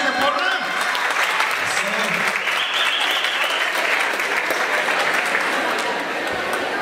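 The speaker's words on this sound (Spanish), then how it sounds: "Fuerte el aplauso de la mesa" Strong applause from those at the table during a certificate-giving ceremony for a parents' school, a thick wash of clapping that carries on for several seconds with a brief voice heard over it.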